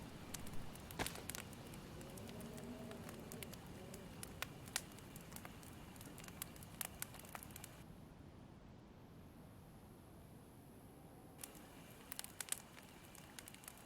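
A campfire in a video game crackles quietly with scattered sharp pops and snaps over a soft, low hiss, steady and faint throughout.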